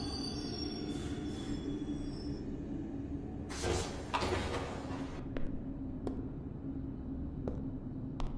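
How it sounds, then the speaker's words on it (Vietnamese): A train ride in a video game, with a continuous low rumble of the moving carriage, a burst of wheel squeal and rattling clatter midway, then scattered sharp clicks from the track, fairly quiet throughout. "mình đang ở trên một cái xe lửa rồi"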